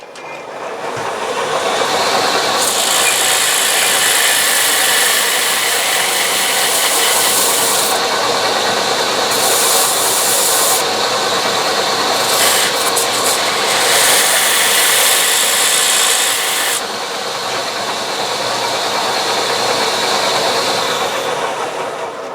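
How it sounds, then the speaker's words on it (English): A turned wooden platter's center is sanded on a running lathe, working up through the grits; a steady broadband hiss and whir holds for the whole stretch, with brighter, harsher sanding bursts coming and going, and no voices. "now we're just going to sand the center, and I'm just going to go run through the grits again"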